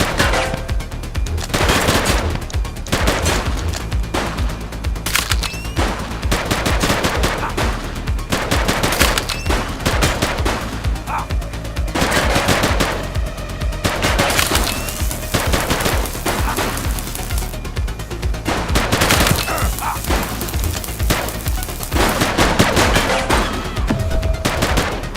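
Dense automatic gunfire and rapid shots crackle almost nonstop through a police video game shootout, with bursts of machine-gun fire layered over scattered single shots, loud and close throughout.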